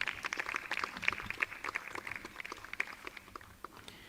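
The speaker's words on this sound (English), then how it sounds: "Please give him a round of applause." Audience applause at an award ceremony for a cartoon festival, a steady patter of many hands clapping, faint and somewhat distant, slowly thinning out toward the end.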